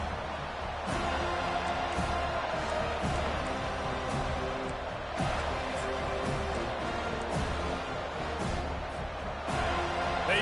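A college football stadium crowd roars in a steady, distant wash with occasional thuds and bursts, spread evenly across the stands.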